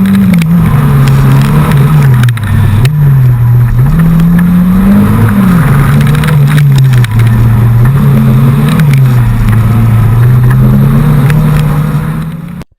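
A car's engine drones steadily through a timed run on a slippery event course at a college, pitch rising and falling as the driver works the throttle through the gates, loud and close throughout with no talking.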